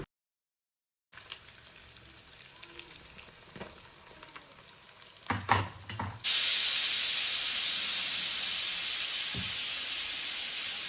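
Shallots drop into a pan of frying ginger, garlic and green chili for a Kerala koorka dish; after quiet clinks and scrapes, a loud, steady hissing sizzle erupts abruptly and continues to the end.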